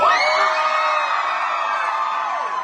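Concert crowd in Toronto cheering, a dense sustained roar of whoops and high yells from many voices, loud and even before tapering slightly at the end.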